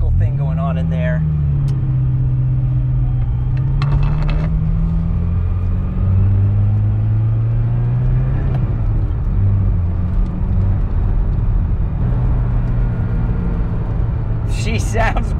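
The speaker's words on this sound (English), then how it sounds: "We're driving a Ferrari." A Ferrari 308 with a steady, loud engine drone from inside the car while driving, its pitch rising and falling slightly with the throttle. Brief talk comes at the start and near the end.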